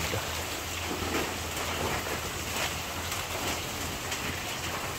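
Steady rain falls as a constant hiss with a faint low rumble underneath, no voices.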